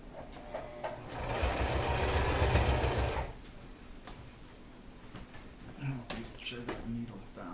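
A sewing machine stitches at close range, a fast whirring, ticking run of needle strokes for a few seconds before stopping, followed by small clicks and handling noises while a person talks.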